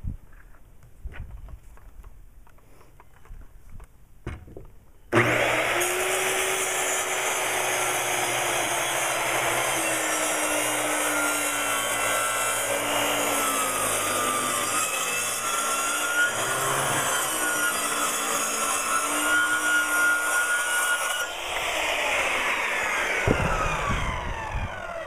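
A power saw cuts a long board down to a 12-inch-wide piece of wood for a basic crate, making a loud, steady whine that runs unbroken for about sixteen seconds before it winds down. No one speaks.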